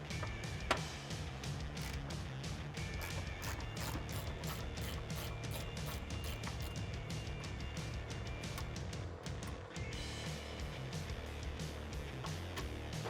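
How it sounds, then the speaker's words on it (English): A 13 mm socket ratchet works an airbox bolt out of the fender of a 2018-2019 Ford Raptor, giving a steady run of rapid mechanical clicks close by, with a few sharper knocks along the way. "grab a 13 socket. We're gonna get this bolt out of the side of our fender,"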